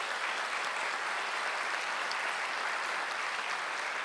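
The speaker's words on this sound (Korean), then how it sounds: "다 같이 박수를 쳐주시면 되겠습니다" A hall audience applauds steadily at a university president's farewell and inauguration ceremony, an even wash of clapping held at a constant level with no speech over it.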